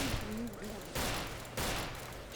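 Gunfire in the video game Fallout: New Vegas, dense overlapping shots in a sustained barrage with a couple of sharper bursts, loud and continuous throughout the short stretch.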